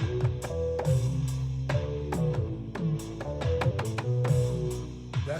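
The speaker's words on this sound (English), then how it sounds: "what you're hearing now is it's the drum machine here" A small portable drum machine plays a quiet programmed beat, with regular punchy kick and snare hits and a tonal bass pattern repeating in a steady groove and no voices over it.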